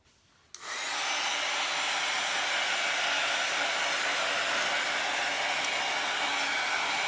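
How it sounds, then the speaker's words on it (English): An embossing heat gun switches on with a click and blows a steady, loud broadband whoosh that continues unbroken to the end, with no talking. "This is actually an embossing gun for doing rubber stamping."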